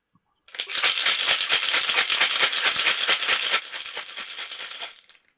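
Ice rattles hard inside a shaker filled with eggnog, a loud, rapid, rhythmic clatter lasting several seconds before easing off slightly and stopping.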